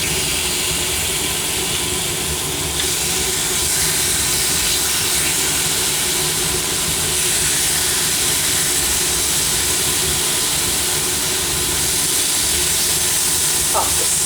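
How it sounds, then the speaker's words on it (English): Steady, loud broadband sizzling hiss of chicken frying hard on a hot grill pan, continuous and close. "that's sizzling nicely"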